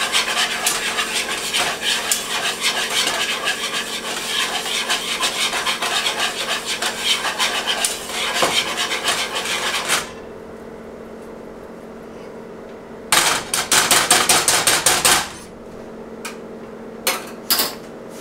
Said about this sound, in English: Just a lot of heat and a lot of stirring.